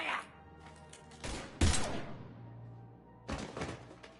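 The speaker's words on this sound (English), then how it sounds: "Now open fire!" Gunfire in the Mass Effect 3 video game comes as a few sharp separate bursts and thuds spaced over a few seconds, fairly close, with a low background hum between shots.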